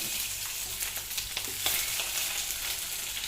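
Onions and green chillies fry in hot oil in a kadai, giving a loud, continuous close-up sizzle with light crackles and occasional stirring.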